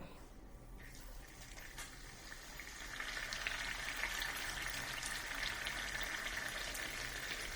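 Rolled bhatura dough slipped into hot oil, a soft steady crackling sizzle that swells after a few seconds and keeps bubbling, fairly faint and without speech.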